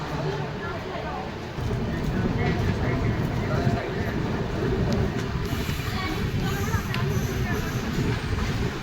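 The Bhubaneswar–Howrah Jan Shatabdi Express pulls out of Jaleswar station, a continuous low rumble and rattle of rolling carriages heard from inside, steady throughout beneath nearby passenger chatter.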